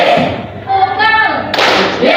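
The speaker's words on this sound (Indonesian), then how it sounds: "Tunggal." Students in a classroom give a single sharp clap together on command, a short loud burst following a teacher's spoken cue.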